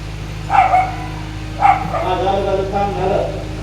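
During a devotional kirtan, a preacher's voice mimics a dog barking with a couple of sharp bark-like yelps followed by whining, whimpering tones over a steady hum of the sound system.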